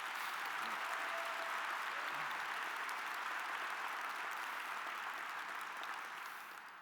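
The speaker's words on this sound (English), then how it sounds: "Can we have another round of applause for Daryl?" An audience applauds at an awards event, a dense, sustained wash of clapping filling the hall at steady loudness before it begins to fade at the end.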